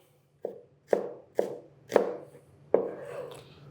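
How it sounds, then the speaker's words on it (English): A knife julienning red onion on a cutting board gives five crisp, separate chops at an uneven, unhurried pace, each a sharp close thud with a short tail, over a quiet background. "we're just going to just julienne a little bit of it."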